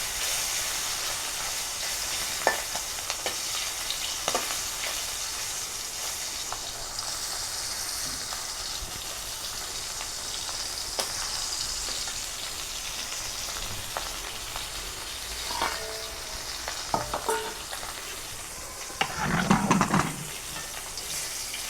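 Hilsa fish frying in oil in a home kitchen, a steady broad sizzle and hiss that runs throughout, broken by occasional clinks and scrapes and a louder spattering burst near the end.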